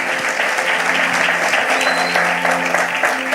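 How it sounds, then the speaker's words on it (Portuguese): A church congregation claps in sustained, dense applause at a steady level, heard close, with no talk over it. "Uma salva de palmas pela vida do nosso sonoplasta."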